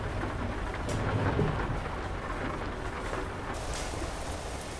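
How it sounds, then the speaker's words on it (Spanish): Steady rain pours down with low thunder rumbling through it in the truck-driving game Truckers MP, a continuous dense wash of sound with no talk. "Siempre me olvido de sacar la lluvia, no me gusta para nada la lluvia."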